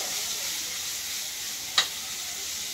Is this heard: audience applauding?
no